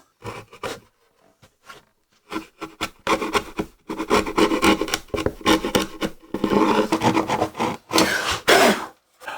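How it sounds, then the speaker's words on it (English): A chisel scrapes and pares out a wooden dado in short, irregular strokes, close and fairly loud, with dry rasping bursts separated by brief pauses. "Just need to clean up this dado with a chisel."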